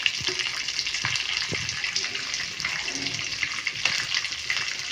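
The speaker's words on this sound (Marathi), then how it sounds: "हिरवी मिरची फ्राय करून घेऊयात" Green chillies and dal frying in hot oil for South Indian lemon rice, a steady broadband hiss and crackle with brief louder pops, continuous throughout and fairly close, no voices.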